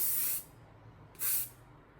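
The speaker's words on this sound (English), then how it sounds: "And I'm just gonna get some spray." Two short bursts of hair spray hiss from an aerosol can, each lasting about half a second with a brief pause between them, close and fairly quiet.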